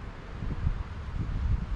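Strong wind gusting across a beach campsite at Arraial do Cabo, a loud rumbling rush buffeting close to the microphone in uneven surges, with no voices.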